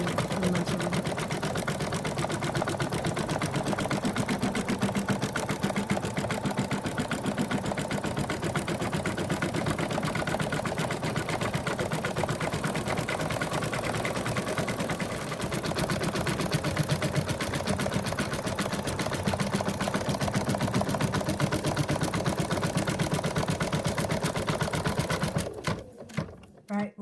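An embroidery machine hums and rattles steadily while stitching the outline of a moose's muzzle in an in-the-hoop project, a rapid continuous needle chatter that carries on evenly before cutting off at the end.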